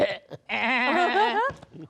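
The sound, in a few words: man imitating a goat bleating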